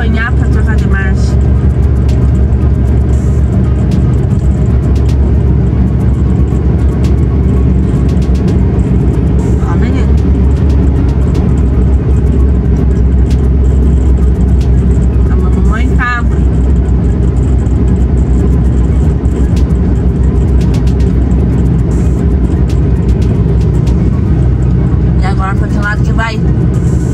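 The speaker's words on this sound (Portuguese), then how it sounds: "Não deixa o caminhão apanhar para trocar de marcha." A truck engine drones steadily throughout a drive on a Brazilian federal highway, with faint rev shifts as gears change, under near-continuous conversation.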